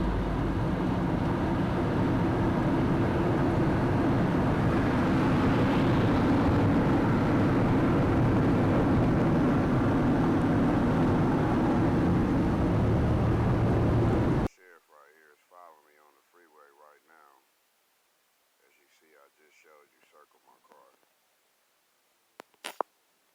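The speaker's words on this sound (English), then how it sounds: "So you see that plane flying across," A loud, steady broadband roar of an airplane passing overhead, with wind buffeting, cutting off abruptly and followed by quiet talking.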